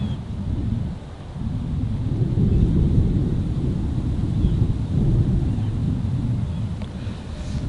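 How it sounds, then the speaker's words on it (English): Thunderstorm over a golf course, heard as a loud, steady low rumble and roar that swells and eases slightly throughout, mixed with wind buffeting, and no clear talk. "Look at the storm, by the way, guys."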